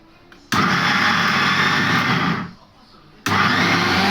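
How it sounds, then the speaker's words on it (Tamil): A mixer grinder coarsely grinding cooked horse gram in two loud whirring bursts, the first running about two seconds before winding down, the second starting abruptly after a short pause. "லேசாக மிஷினில் வச்சு லேசாக அரைச்சிக்குவோம்"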